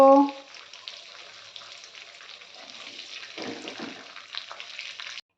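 Steady sizzling of pointed gourd frying in hot oil, a continuous close hiss with a few soft clinks and stirring sounds partway through.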